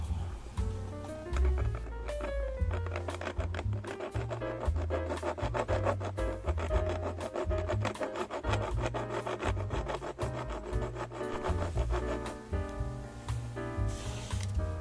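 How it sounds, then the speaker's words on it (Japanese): A diamond needle file rasps steadily back and forth on a soldered brass part for an old Katsumi KiHa 82 model train, close and continuous with rhythmic scraping strokes and no talking. "ヤスリで削ります。"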